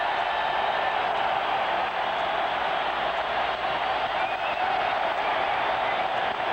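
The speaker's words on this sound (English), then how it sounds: "Crowd here at Chicago Stadium roaring its appreciation as the Bulls take the court." A packed Chicago Stadium crowd roars and cheers steadily as the Bulls take the court for Game 6 of the 1992 NBA Finals against Portland, a dense, unbroken wall of arena noise.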